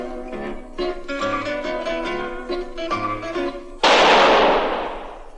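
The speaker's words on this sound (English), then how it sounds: "That was the shot that killed Harry Lime." A single sharp gunshot from a radio crime drama about Harry Lime rings out loud and close after a passage of music, its burst decaying over about a second and a half.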